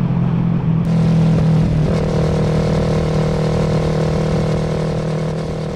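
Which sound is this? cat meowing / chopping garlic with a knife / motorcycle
motorcycle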